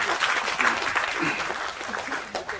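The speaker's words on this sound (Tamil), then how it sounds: "அவருக்கு முதல்ல ஒரு நல்ல கைத்தட்டு கொடுக்கணும்" A Tamil event audience breaks into dense, sustained applause, many hands clapping together at an even level with faint voices mixed in throughout.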